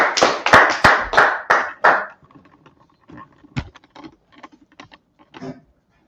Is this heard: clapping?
yes